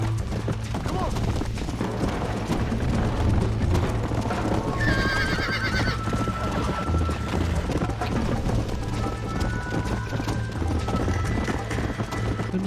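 Rhythmic clip-clop of a galloping horse in the Red Dead Redemption video game, steady hoofbeats with a whinny partway through, running beneath players chatting over it.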